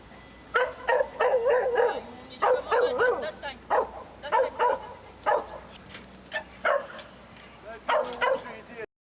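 Ukrainian border guard service dogs bark repeatedly in short bursts, some yipping and whimpering, fairly close, scattered irregularly across the recording.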